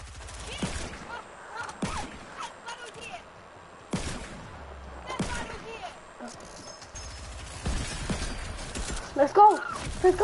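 Fortnite gunfire in a live console match: scattered sharp shots and short bursts from near and far, with pauses between, under an excited player talking throughout.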